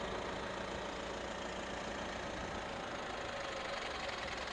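A 2.4-litre diesel engine in a 2019 Mitsubishi Pajero Sport idling steadily, a continuous rough mid-low rumble with a faint knocking texture, no voices.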